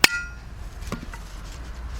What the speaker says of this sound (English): You take your chisel, a hammer, and you set it right there. And you hit it a few times.